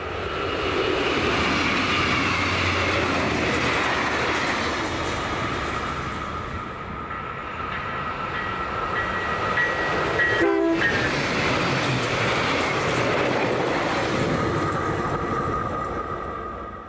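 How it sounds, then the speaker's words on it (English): A westbound Union Pacific freight train rumbles past at close range with steady wheel and car noise throughout, while its horn sounds partway through over the continuous roar. "The westbound UP train soon came into view."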